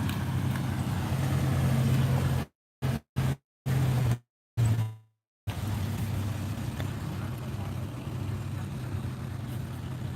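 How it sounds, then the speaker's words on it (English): A vehicle pulls out on a city street during a FEMA operation in Chula Vista, California, its steady engine rumble continuous and moderately near, with several brief dropouts midway. "Here's a vehicle pulling out."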